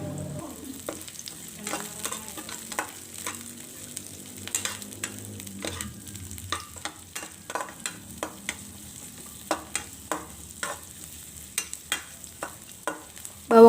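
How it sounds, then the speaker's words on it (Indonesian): Sliced onion sautés in a little oil in a pan, a soft continuous sizzle broken by regular scraping strokes of a spatula that grow more frequent and pronounced toward the end, with no talking. "Saya tumis dulu bawang bombay ini sampai setengah layu."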